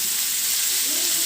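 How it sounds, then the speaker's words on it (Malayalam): Wild hog plums (ambazhanga) frying in sesame oil give a continuous, bright, hissing sizzle, close and loud, with no pauses or voices. "ഒന്നുകിൽ നമുക്ക് ഈ നല്ലെണ്ണയിൽ ഇങ്ങനെ വാട്ടിയെടുക്കാം"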